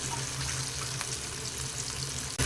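Battered chicken pieces for KFC-style crispy chicken fry in hot oil, a loud, unbroken bubbling sizzle up close, ending in a brief clatter; no one speaks.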